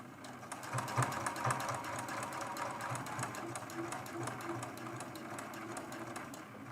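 A sewing machine stitches the binding of a mug rug, a rapid even mechanical whir running continuously at moderate volume while someone talks over it.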